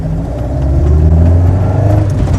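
A 1973 BMW 2002 tii with a custom exhaust and JMIC manifold revs up, a loud, low, throaty engine note swelling and holding close by, with no voices.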